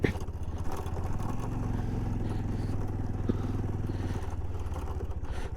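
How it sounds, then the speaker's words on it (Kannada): A motorcycle labours up a hill road, its engine droning steadily and closely with a rough, throbbing mid-pitched note that holds for several seconds before easing slightly. "ಓಕೆ ಬೈಕ್ ಇಲ್ಲಿಗೆ ಹೋಗಲ್ಲ ಇನ್ನು ಮೇಲೆ ಹೋಗಲ್ಲ"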